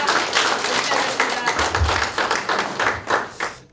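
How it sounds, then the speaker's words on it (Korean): Loud, close audience applause at a Democratic Party Yongin mayoral primary candidates' speech event in Korea, a dense burst of many hands clapping steadily throughout. "뜨거운 박수 한번 부탁드리겠습니다"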